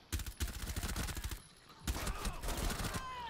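Rapid bursts of gunfire from the video game Rainbow Six Siege rattle in two dense volleys with a short gap between them, loud and close with no clear talking.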